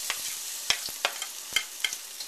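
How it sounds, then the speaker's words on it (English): Black bean sauce, pepper, garlic and ginger sizzle in a hot pan while a utensil stirs them, giving sharp scraping clicks in an irregular rhythm over a soft, close frying hiss. "Stir that around so it's fragrant"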